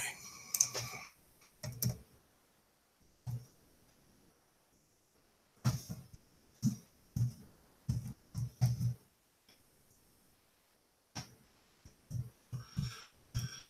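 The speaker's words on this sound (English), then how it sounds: "So I'm a two-finger typer." Quiet, close two-finger typing on a computer keyboard: sparse clusters of individual key clicks with irregular gaps, some taps coming in quick runs and others alone, separated by near-silent pauses.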